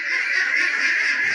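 A flock of ducks on a 500-bird duck farm, a dense, continuous mass of quacking calls blending into one steady, fairly loud chorus with no voices.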